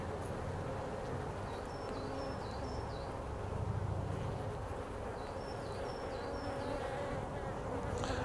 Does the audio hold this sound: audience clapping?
no